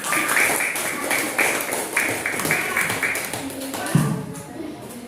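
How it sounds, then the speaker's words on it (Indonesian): A class applauding a student, a burst of quick overlapping hand claps that fades out after a few seconds. "berikan aplaus kepada Siti Hasan"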